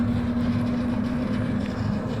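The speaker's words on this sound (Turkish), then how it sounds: "Yığdığımız buğdayları patoz atıyoruz artık." A tractor-driven threshing machine separates wheat from straw on a mountain farm in the Taurus range, giving a steady, loud mechanical drone with a constant low hum and no breaks.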